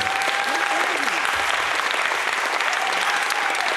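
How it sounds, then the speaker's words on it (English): Audience applause at the close of a Palestine teach-in panel, steady dense clapping from a crowd that holds at a constant level throughout, with a faint voice briefly audible beneath it. "Please give him a round of applause."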